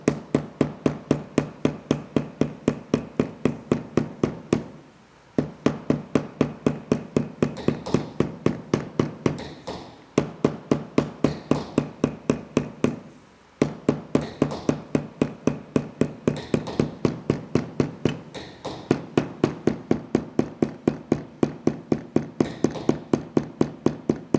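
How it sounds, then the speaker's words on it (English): Rapid, steady flat-face hammer taps on the edges of a leather gator belt, continuing for a long stretch with a few brief pauses, close and fairly loud. "I'm going to tip this over using my flat face hammer. We're going to tap down the edges on this."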